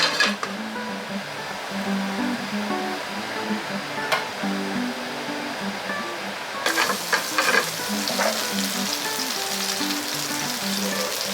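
Shrimp sizzles and sautés in olive oil over a high flame for a red shrimp and clam linguine, a loud continuous frying hiss that grows brighter and denser partway through, with occasional clinks of stirring.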